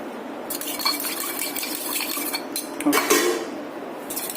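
Rice mixed with turmeric in a biryani pot gives close clattering metal scrapes and knocks of a spoon against the pot, with a louder cluster of clinks near the end; no voices.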